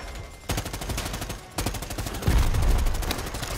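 Rapid automatic gunfire in Predator: Hunting Grounds, loud bursts of close, rattling shots that pause briefly and then resume with heavier, booming fire.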